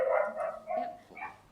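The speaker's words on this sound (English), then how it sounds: "is that your dog in the background, Sinead?" A dog barks a few times in quick succession in the background of an indoor meeting, short yelping barks at moderate volume.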